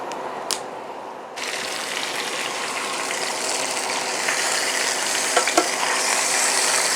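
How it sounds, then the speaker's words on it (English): Chicken pieces browning in a hot pan before going into a slow cooker for chicken cacciatore, a loud, dense sizzle that bursts in after a quiet second and keeps building, with a few small clicks and clatters. "I want to brown these before I put them in the slow cooker"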